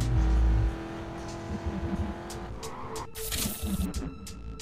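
A muscle car drifting around a track in Need for Speed Carbon, its engine droning steadily with bursts of tire squeal and skidding, loud at first and then continuing at a steady level.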